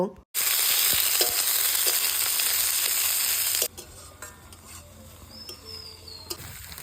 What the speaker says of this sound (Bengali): পেঁয়াজ লাল করে ভাজা হয়ে গেছে